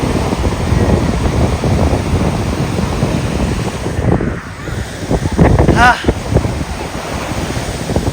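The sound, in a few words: ocean waves at the seashore in Somnath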